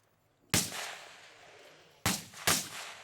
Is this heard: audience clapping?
no